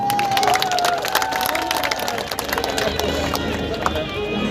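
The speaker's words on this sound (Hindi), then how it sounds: "उन फौजी भाइयों के लिए एक बार जोरदार तालियां" A crowd breaks into loud applause in honour of soldiers at a motivational poetry performance, dense clapping and cheering with a whistle-like tone near the start, continuing for several seconds.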